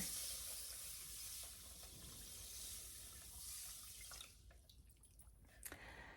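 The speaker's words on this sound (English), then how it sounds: "add in 4 cups of water" Four cups of water stream into a cooking pot holding two cups of millet, a steady faint splashing and trickling that tapers off, with a few drips at the end.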